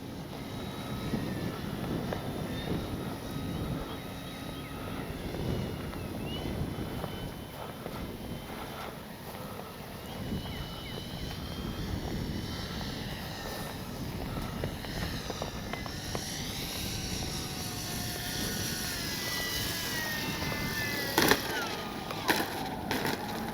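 An RC F4U Corsair model warbird coming in to land with gear down, its engine a steady buzzing drone with shifting pitch as it passes, heard outdoors with faint wind and a few small bumps near the end.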